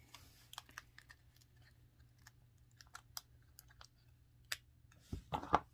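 A resin chess king is pulled from its mold with small, quiet clicks and ticks spread through the quiet. A few sharper, louder snaps come near the end.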